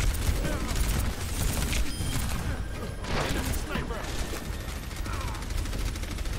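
In Overwatch, Baptiste's gun fires continuous rapid bursts of light, popping shots in a steady rhythm, mixed with other game effects and dense gunfire for the whole stretch, with a person talking underneath.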